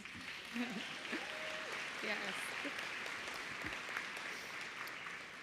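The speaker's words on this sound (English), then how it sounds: "Give yourself a round of applause." A crowd at a college commencement ceremony applauds, a steady, even wash of clapping with a brief voice over it.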